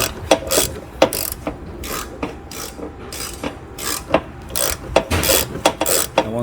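A ratchet fitted with a swivel clicks in quick rhythmic bursts while loosening a part during an oil change on a 2012–2019 Fiat 500, close and loud, with brief pauses between strokes.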